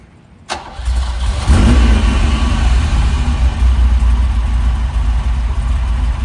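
A cold 1975 Ferrari 308 GT4 engine cranks briefly and fires up, settling into a loud, steady, rumbling idle close by with no talking.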